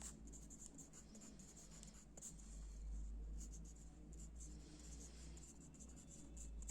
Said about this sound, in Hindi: मैं आपको यहाँ मतलब लिख के दे रही हूँ।